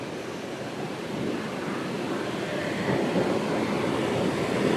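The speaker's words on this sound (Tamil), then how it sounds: "அங்கே அந்தளவுக்கு சவுண்டு தண்ணி விழுகிற சவுண்டு மேலே இருந்து கீழே" Water falling from a height at Kodiveri dam, heard as a continuous, broad roaring rush that stays steady and grows slightly louder.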